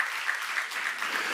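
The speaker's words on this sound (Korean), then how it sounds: "박수." An audience claps at a church seminar, a dense, even wash of applause that continues throughout without a break.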